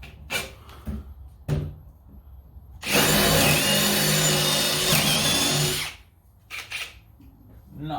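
A Ryobi HP compact cordless drill driver whirs steadily at high speed for about three seconds, preceded and followed by short bursts and clicks of the trigger.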